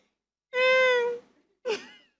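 A person imitates a cat crying with a drawn-out, tonal meow, then a short second mewling cry after a brief pause, close and clear in a quiet room.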